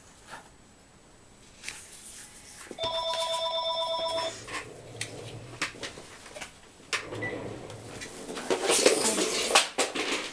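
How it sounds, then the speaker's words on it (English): A telephone rings indoors during scrapbook layout crafting, its steady electronic tone sounding for about a second and a half mid-clip amid paper rustling, tapping and handling noises, fairly close and moderately loud. "Toss the phone out there, and then we don't have to listen to it."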